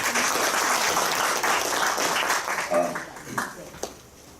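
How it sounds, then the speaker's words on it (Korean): An audience at a business presentation applauds a speaker being welcomed, a full round of clapping that thins and fades toward the end with scattered last claps. "박수 부탁드리겠습니다"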